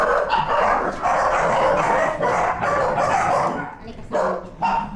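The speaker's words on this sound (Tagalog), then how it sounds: "Ang daming aso sa gabi." Dogs barking at night along a street, several sharp barks and yips in bursts close by, with a person talking over them.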